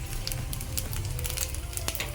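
Dense crackling and sizzling throughout, with scattered sharp pops of mustard seeds bursting in hot oil, close and steady with no voices.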